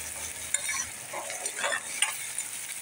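Tomatoes stirred into onions frying in a pan, a soft sizzle with a few scraping stirs over about three seconds, close and fairly quiet, no talking.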